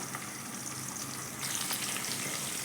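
Onion and garlic fry in a pan for a catla fish curry, a close, steady sizzle with faint crackles that grows slightly louder midway and ends on a brief clatter.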